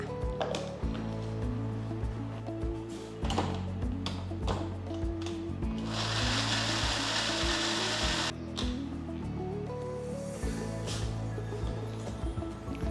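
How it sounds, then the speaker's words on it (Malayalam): A mixer grinder runs continuously, grinding onion chutney with jaggery. The motor whirs and rattles steadily throughout with some uneven pulsing. No one speaks. "ഇതെല്ലാം കൂടെ നന്നായിട്ട് അരച്ചെടുക്കുക."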